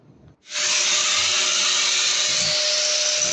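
A power tool cuts through a metal bolt while an underground swing gate motor is being installed, starting abruptly after a brief quiet moment and then running as a loud, steady high-pitched whine and grind.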